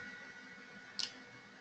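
A single crisp computer mouse click, a short double tap, stands alone against faint steady background hiss.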